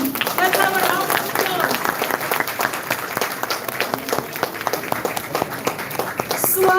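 An audience at the GD Goenka Confluence 2024 breaks into steady applause welcoming actor Boman Irani, a dense wash of clapping with a few sharper individual claps standing out, sustained throughout.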